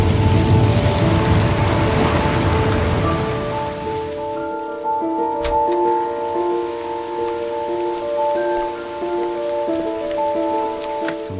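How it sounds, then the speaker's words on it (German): Steady, dense rainfall from the video game Heavy Rain Remastered patters continuously throughout, joined by soft sustained musical tones after the first few seconds. "Der Regen klingt echt toll."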